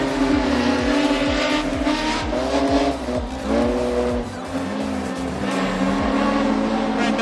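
Speedway race cars roar around the Maryborough Speedway track at a season-opening event. Several engines are heard at once, loud and close, with steady revving and passing bursts that continue without a break.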